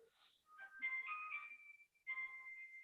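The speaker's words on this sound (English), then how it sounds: "My Moscow mobile's ringing." A mobile phone rings during a mathematics lecture, its bright electronic ringtone melody playing in a few bursts with a short gap, clear and fairly close, with no talk over it.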